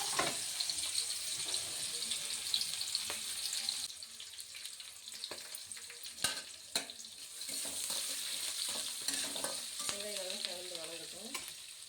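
Urad dal, onion and green chillies fry in a pan for rava kichadi, making a soft, continuous sizzle under scraping stirs and occasional spoon knocks, with no talking.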